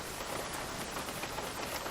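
Steady rain from xEnviro weather in a flight simulator, flying a Zibo mod 737 from Sydney to Melbourne, a dense even hiss of drops pattering on a surface with no voices.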